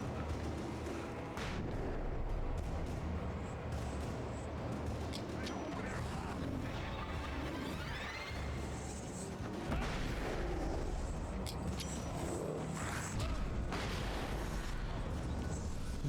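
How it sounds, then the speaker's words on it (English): A flashbang explosion in the Alan Wake video game, heard as booming blasts and rumbling mechanical noise sustained at moderate loudness, with a person talking over parts of it. "I'm just gonna drop the flashbang."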